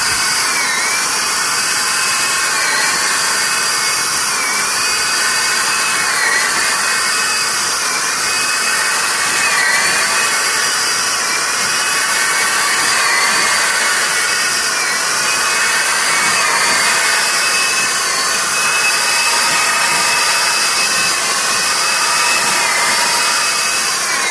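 A paint sprayer bought from Amazon, fitted with a black nozzle, runs in a steady, loud, continuous whine and hiss for the whole stretch, with no talk over it.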